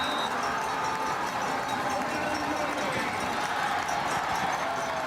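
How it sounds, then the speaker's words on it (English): A packed football stadium crowd at Richardson during the 2024 Vanier Cup between Laval Rouge et Or and Wilfrid Laurier Golden Hawks roars as one steady, deafening wall of noise, with a commentator talking over it. "Listen to the crowd. Deafening here at Richardson."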